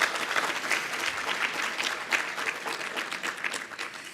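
A banquet audience at a student leadership recognition event claps for guests from campus departments, a dense, lively round of applause heard close and continuous throughout.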